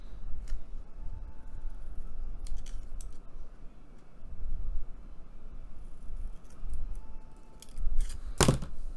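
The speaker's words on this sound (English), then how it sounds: "Let me trim that one up a little bit so it looks a little more natural." Paper being trimmed with scissors while making an origami geisha bookmark: scattered small snips and rustles over a low steady rumble, ending in one sharp, louder cut.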